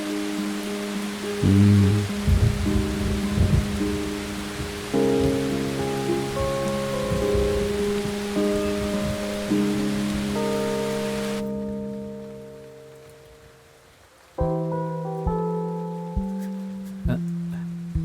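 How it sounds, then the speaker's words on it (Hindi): Steady, dense rain hiss under a melodic music track, cutting off abruptly partway through while the music continues. "वो बारिश देखने आई थी।"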